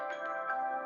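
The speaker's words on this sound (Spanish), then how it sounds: "ay, el teléfono, todo el mundo llama" A telephone rings during a history class, a steady electronic ringtone with stacked harmonic tones pulsing in short repeated bursts, moderately loud and without speech.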